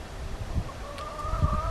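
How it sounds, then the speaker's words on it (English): Chickens cluck faintly in the background of an outdoor grilling spot, with soft, steady calls over low ambient noise. "You can hear the chickens in the background the whole time."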